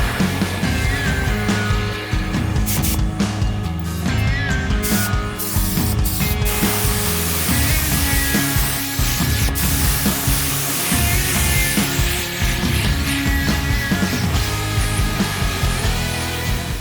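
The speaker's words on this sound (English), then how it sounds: "Just spraying." Continuous loud hiss of spray painting Harley FXR motorcycle saddlebags, a steady rushing blast with some mechanical rattle beneath, running unbroken without speech.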